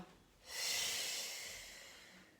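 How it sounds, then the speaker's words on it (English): A single long, close breath during a stretching exercise, soft at first, then swelling into a steady airy exhale that slowly fades without any talking. "Inhale, take it back. Exhale."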